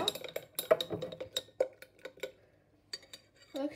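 A spoon stirs a chocolate milkshake in a glass, making quick, irregular clinks and taps close by, with a short pause before a few more knocks.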